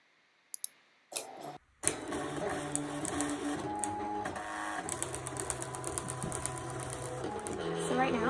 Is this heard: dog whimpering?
no